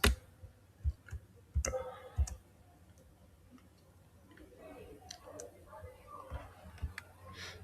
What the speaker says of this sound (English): select this and click on this, then type JS